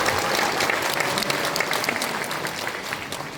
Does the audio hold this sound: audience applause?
yes